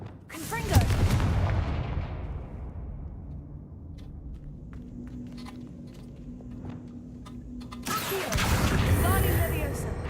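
A Confringo blasting spell from Hogwarts Legacy bursts with a loud crash that decays into a low rumble, followed several seconds later by a second heavy blast.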